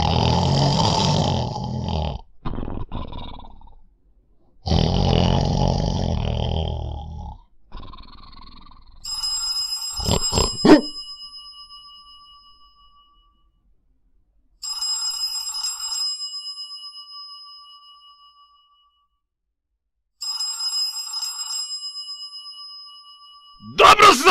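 A telephone rings in a mill deep in a forest, three separate bursts of bright electronic ringing spaced a few seconds apart, coming after a stretch of low snoring-like breathing and a few thumps.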